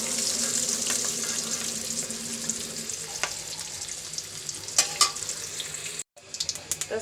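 An egg frying in a pan in a home kitchen, a steady soft sizzle that thins out midway, with light clinks and scraping of utensils and a short gap near the end.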